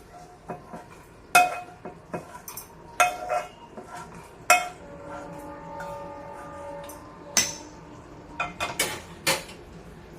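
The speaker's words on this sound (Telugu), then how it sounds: "ఇలా తాలింపు పెట్టేస్తున్నాను" A metal ladle or spoon clinks and taps against a pan in scattered sharp knocks over a low sizzle as spices are tempered in oil for coconut chutney in a home kitchen.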